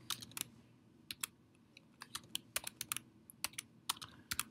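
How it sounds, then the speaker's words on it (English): Someone types on a computer keyboard during a programming lecture, with quick, crisp clicking keystrokes in irregular bursts that sound close and fairly quiet. "Sorry, typing."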